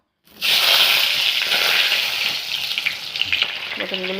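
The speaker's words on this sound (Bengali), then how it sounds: "তেলটা গরম হয়ে গেছে, এখন তাতে দিয়ে দেব কেটে রাখা পটলগুলো" Sliced pointed gourd drops into hot oil in a kadai in a village kitchen and sets off a loud, bright, continuous sizzle that holds steady, with a few stirring clatters toward the end.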